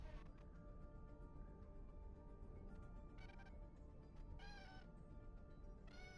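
A cat meows several times in short bursts over a steady background hum, the calls rising and falling at a moderate distance with brief gaps between them.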